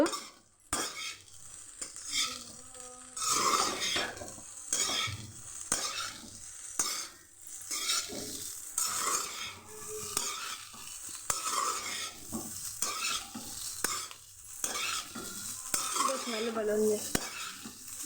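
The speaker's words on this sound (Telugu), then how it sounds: "రైస్ వేసుకొని బాగా కలుపుకోవాలి ఫ్రై చేస్తూ." Rice stir-fried in a pan for fried rice: continuous loud sizzling with repeated metallic scraping and clanking of a utensil against the pan, in an irregular stirring rhythm.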